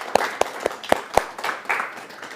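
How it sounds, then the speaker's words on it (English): A small audience after a talk gives a sparse round of applause: about five distinct, fairly close hand claps in an uneven rhythm, trailing off into softer scattered clapping. "let's go ahead and give Dr. Bhatia a round of applause"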